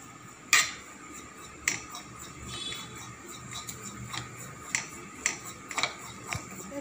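Gram flour dry-roasting in a pan for a stuffed okra fry, with a spoon giving sharp, scattered clinks and taps against the metal over a quiet kitchen background; no talking.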